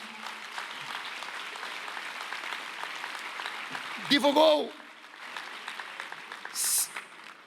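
A crowd at a rally linked to Argentina's general strike applauds in honour of Julian Assange, a steady wash of clapping running throughout the clip while a voice speaks over it in the middle.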